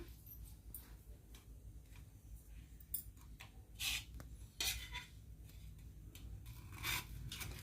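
Knife cutting through a crisp mini bread pizza, with scattered crunchy cuts and clicks of the blade against a plate, faint and close, coming in irregular bursts.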